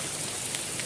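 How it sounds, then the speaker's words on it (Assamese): Heavy rain pours down in a dense, steady hiss of drops on surfaces, close and unbroken through the short stretch, with no voices. "ইমান বৰষুণ পৰি আছে"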